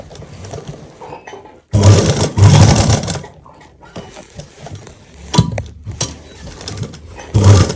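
A sewing machine stitches a sleeve seam on fabric in several loud bursts of rapid whirring, broken by short pauses and quieter handling between runs.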